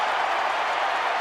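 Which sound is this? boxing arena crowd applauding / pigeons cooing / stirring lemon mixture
boxing arena crowd applauding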